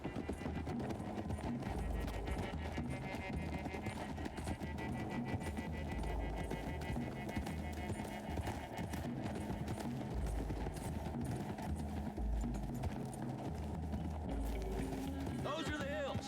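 Horses gallop in Red Dead Redemption 2, a steady stream of clip-clop hoofbeats and rumbling movement running throughout, with occasional whinnies, under game music and voices.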